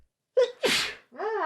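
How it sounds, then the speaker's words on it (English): A single loud, close sneeze bursts out after a short sharp intake of breath, followed by a startled vocal exclamation. "I'm just alarmed when I sneeze out of nowhere"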